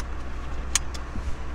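A car's engine rumbles low and steady while driving, with a faint continuous road drone, a brief click or rattle partway through, and no talking.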